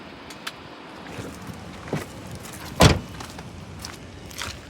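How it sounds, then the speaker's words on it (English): The rear cargo door of a collision-damaged 2019 Ford Explorer Police Interceptor opens, with a few soft clicks and one sharp, loud latch clunk near the middle, all close by with faint outdoor background noise. "Cargo door opens and closes as it should."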